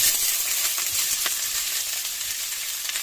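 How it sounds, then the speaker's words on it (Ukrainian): Onion fries in a pan with a constant bright sizzle and crackle, steady and close, with faint occasional clicks and no talking. "А ми починаємо обсмажувати цибулю."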